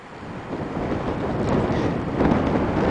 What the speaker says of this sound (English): It's a nice day, a little windy, cool breeze coming in.